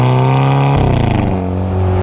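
A car engine revving loudly and close by, holding a steady drone, then surging up in pitch midway before settling back into a strong, even hum.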